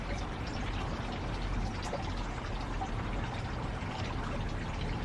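Water pours steadily over potted plants, including propagated baby succulents and a cactus fern, as a continuous soft splashing wash that runs unbroken and fairly close, with no talking.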